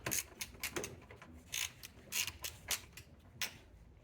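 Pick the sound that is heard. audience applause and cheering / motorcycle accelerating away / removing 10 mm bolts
removing 10 mm bolts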